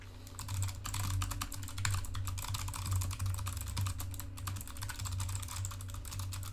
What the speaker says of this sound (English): I'll go ahead and do some keyboard typing.